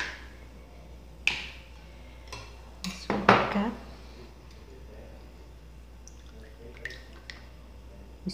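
Spoon clinking and scraping in a bowl while condensed milk pudding ingredients with vanilla are mixed by hand, a burst of quick clatter in the middle among scattered lighter taps, with a faint steady hum underneath.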